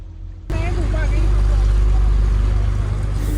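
A passenger boat's engine drones across Attabad Lake in Hunza, its flood-greyed water under the hull, kicking in abruptly after a brief quieter moment and holding a loud, steady rumble with faint voices beneath.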